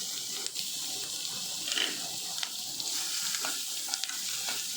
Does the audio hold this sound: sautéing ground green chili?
yes